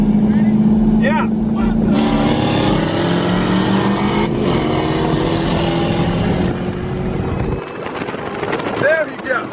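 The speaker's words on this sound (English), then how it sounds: "this a fast car" A fast car, a Hellcat or Trackhawk-type muscle car, revs and accelerates in an Alabama street takeover roll race, the engine roaring loud and steady with a rising whine over wind noise and a crowd talking and shouting throughout.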